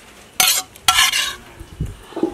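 Sautéed tomato and sesame chutney mixture being scraped from a pan onto another plate, with two loud broadband scraping bursts followed by softer clinks and knocks of utensil against dishware.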